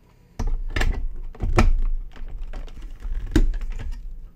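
Plastic parts of a TUUMIIST cold press juicer are handled and locked into place: a series of close, sharp clicks, knocks and thunks in an irregular sequence.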